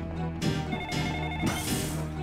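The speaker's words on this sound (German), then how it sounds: "Phone rings." A telephone ringing in a Sega Dreamcast horror game, with electronic rings repeating in a steady pattern at moderate volume over a low background hum.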